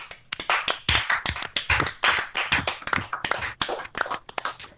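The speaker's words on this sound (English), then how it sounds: "give her a round of applause" A round of applause from a group, with loud, close hand claps rattling on steadily for several seconds with no speech.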